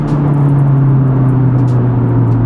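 A tuned 2020 Honda Civic Type R engine revs loudly and steadily up close, a deep throaty hum holding strong throughout with no voices.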